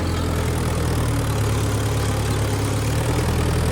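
A Mahindra Yuvo 575 DI tractor engine labours under load in a field, a loud, steady diesel drone close by whose deep tone sags slightly midway, with no voices.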